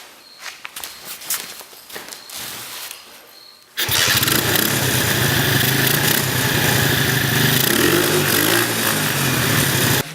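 A no-start dirt bike, cleaned at the carburetor, sputters with a few rough attempts and then catches into a loud, steady engine roar that runs close by without a break.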